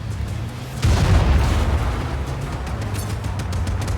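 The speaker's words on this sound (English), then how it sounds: "Oh, and now they send in tanks." Tanks attack in Just Cause 4 with a heavy explosion bursting in close, followed by a long rumbling roar and scattered distant pops of combat.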